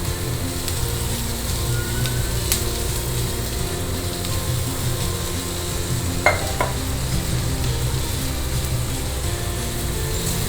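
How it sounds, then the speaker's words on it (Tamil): Cooked basmati rice is tipped into a hot pan and stirred: a continuous soft sizzle and scraping hum throughout, with a couple of light utensil clinks partway through. "இப்போ சாதம் வேக வச்சு ரெடியாக வச்சுருக்கேன் பாஸ்மதி அரிசியை. அதை வந்து உதுத்து போட்டுடலாம்."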